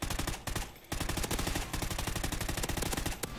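Rapid automatic gunfire in the video game Call of Duty: Ghosts, loud continuous bursts with a brief pause, then sustained firing to the end, no voices.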